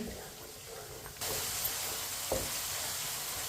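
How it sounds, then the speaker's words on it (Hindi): Potatoes frying in a pan while being stirred with a spoon: a low hiss steps up to a steady, louder sizzle partway through, with faint scrapes of the spoon under it. "आप इसे भी 2-3 मिनट के लिए चम्मच चलाते हुए भून लेंगे, फ्राई कर लेंगे।"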